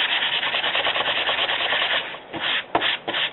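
Paper is rubbed to distress the edges of a handmade card, a close, rhythmic scratchy rasping with short repeated strokes and brief pauses near the end, with no voices.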